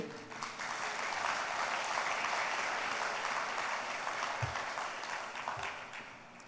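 A church congregation claps hands together in a large auditorium, producing a sustained, dense wash of applause that holds steady throughout before easing slightly at the end.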